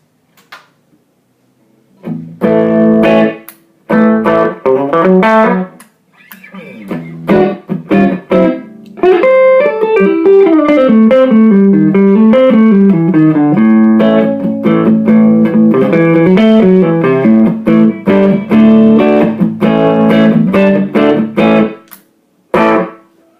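An electric guitar plays through the treble channel of a tweed Deluxe amp, loud chords and single-note phrases with brief pauses between bursts of playing and no talking.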